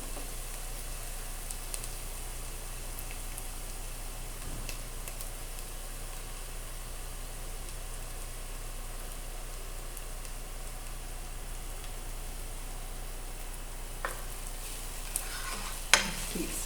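Onion and garlic softening in a pot over medium heat, stirred now and then, give off a steady, even sizzle and hiss throughout, with a couple of faint utensil clicks near the end.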